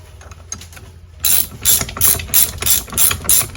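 A ratchet wrench tightens the tilt bolt on a vintage Johnson outboard motor, first faint clicking, then six or seven loud, evenly spaced ratcheting bursts close by.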